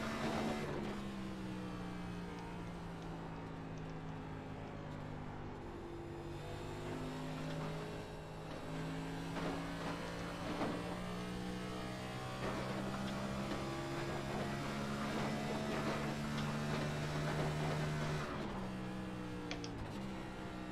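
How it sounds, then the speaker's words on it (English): A car engine revs through a downshift, its pitch rising and falling in steady steps under a continuous, fairly loud engine drone that fills the whole stretch without talking. "Look at the downshift."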